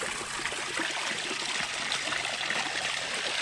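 Japanese mountain spring water at a shrine runs steadily as it is drawn, a continuous close trickling and splashing stream with no talk.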